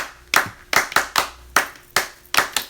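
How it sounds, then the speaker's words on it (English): A man at Disneyland claps his hands loudly about ten times in an uneven rhythm, each sharp clap close and distinct with short silent gaps between. "his signature thing is he likes to clap like this"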